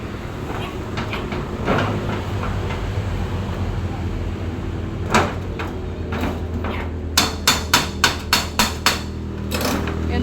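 A hammer strikes a new corrugated metal sheet roof, first in scattered knocks and then in a quick run of about seven sharp, ringing blows near the end, over steady background noise.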